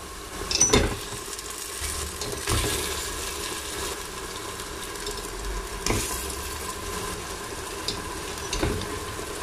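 Chunks of meat sizzle steadily in a hot pan of fried tomato paste, with occasional scraping stirs and clatters punctuating the constant frying.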